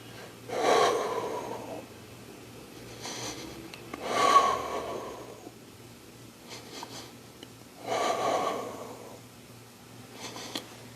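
Heavy breathing during a plank exercise: loud, forceful breaths and gasps come in spaced bursts about every three to four seconds, close to the microphone.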